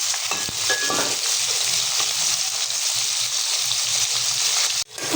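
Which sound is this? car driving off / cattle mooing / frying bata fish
frying bata fish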